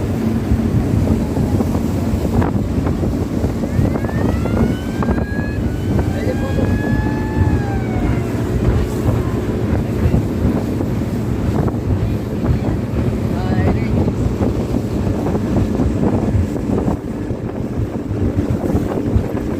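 Wind buffets the microphone aboard a launch pulling away from Mawa ghat, with a steady engine and water rush underneath; people talk and faint whistle-like calls sound partway through.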